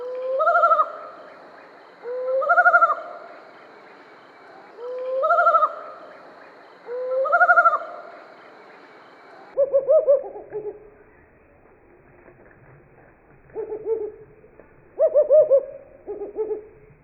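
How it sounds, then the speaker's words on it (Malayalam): A mottled wood owl in Kerala calls loudly and close, first four evenly spaced rising hoots about two seconds apart, then a run of shorter, quavering lower notes in uneven clusters against a quiet background. "വളരെ പേടിപ്പെടുത്തുന്ന, കേട്ടാൽ നമ്മളൊക്കെ പേടിച്ചു പോകുന്ന സൗണ്ടാണ് ഈ കാലം കോഴിക്കുള്ളത്."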